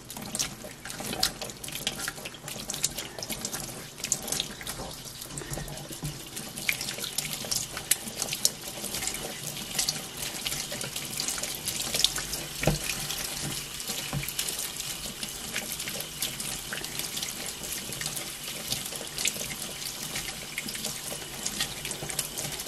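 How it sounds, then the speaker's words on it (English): Gentle flow of tap water splashes over soft homemade butter being rinsed in a sink, a steady trickling wash with small drips, no voices. "And your water doesn't need to be blasting, just a gentle flow."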